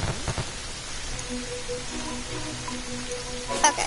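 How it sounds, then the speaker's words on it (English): Rain falls in Terraria as a steady hiss of pattering drops. Soft game tones play over it and a brief spoken word comes at the start. "Well, it's raining."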